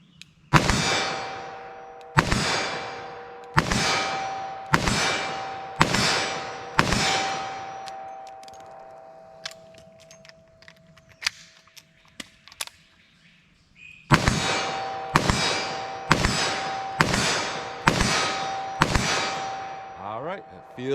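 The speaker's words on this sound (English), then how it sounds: "I'm gonna do 6 rounds of 357 mag, do a reload, do 6 more." .357 Magnum revolver fired six times at steady intervals, each loud crack ringing into a metallic clang from the target, then a quieter stretch of reloading clicks and handling before six more evenly spaced shots and clangs.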